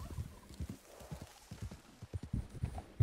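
Horse hooves clip-clopping in the Red Dead Redemption Online video game, a quick, uneven run of close thudding steps over a few seconds, with no talk.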